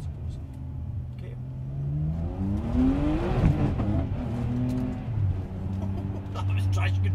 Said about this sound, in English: Hopefully you can hear the burbling that comes with every time, with every downshift. It's just from a Ferrari